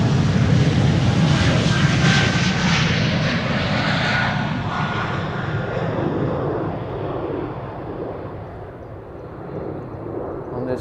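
Embraer E2 jet airliner at Schiphol Airport, a steady broad engine roar that stays loud and close throughout, slowly easing slightly toward the end.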